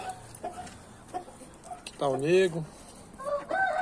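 Chickens at a backyard poultry setup give scattered soft clucks, and a rooster lets out a short, loud crow partway through; someone speaks briefly nearby.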